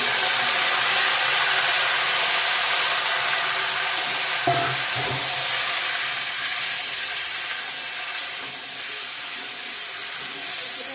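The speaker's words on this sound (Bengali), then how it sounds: "এখন সবজিগুলো দিয়ে দেবো আলু কচু কেটে রাখা" Cut potato and taro pieces drop into hot spiced oil and sizzle loudly and steadily up close, with a brief clatter of stirring partway through and no speech.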